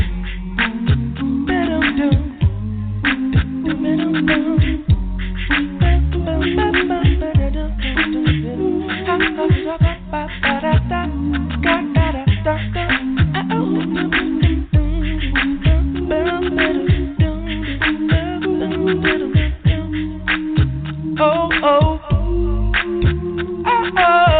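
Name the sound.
a cappella gospel singing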